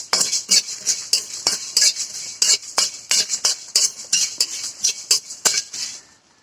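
Spices and cumin frying in a pan for mango pickle, stirred with a metal spoon that scrapes and clinks in a quick, uneven rhythm of sharp strokes, loud and close with a faint sizzle beneath, ending in quiet.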